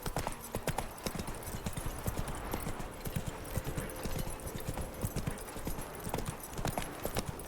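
The horse Roach trots in Witcher 3, with its hooves clip-clopping in a quick, steady rhythm all the way through. Faint ambient sounds from the game sit underneath the hoofbeats.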